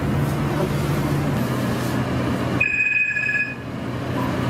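A telephone rings in a brief burst of high electronic tones over a steady low background hum, then stops while the room noise carries on.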